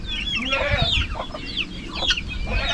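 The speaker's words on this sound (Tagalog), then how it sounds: "At dito manok, sisiw ng manok." Hens and their young chicks cluck and peep together in a busy, continuous chorus of overlapping calls, close by and fairly loud.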